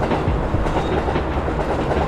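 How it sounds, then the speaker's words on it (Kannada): An express train rushes past close by, a loud, dense rumble with rattling wheel clatter filling the whole brief moment. "ಎಂದಿನಂತೆ ವಾರಕ್ಕೊಮ್ಮೆ ಬರುವ ಆ ವೇಗದೂತ ರೈಲು, ಅದರ ರಭಸೆ ಎಷ್ಟಿತ್ತಂದರೆ ಗಾಳಿಯಂತೆ."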